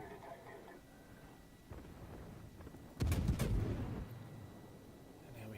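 A cruiser in the naval game World of Warships fires shells in one heavy, booming salvo about halfway through. Quieter ambient game noise comes before it, and the rumble fades out afterward.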